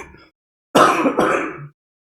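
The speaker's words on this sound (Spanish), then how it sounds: "aún tengo un poco de tos" One person clears their throat loudly and close, a short rough burst in two pushes followed by silence, in a quiet indoor setting during a sermon.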